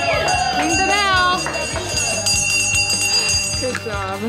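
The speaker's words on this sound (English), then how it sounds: "We had to ring that bell." A bell rung in a tattoo and piercing shop to celebrate a first-timer, clanging several times in a loud, busy room over crowd noise and chatter.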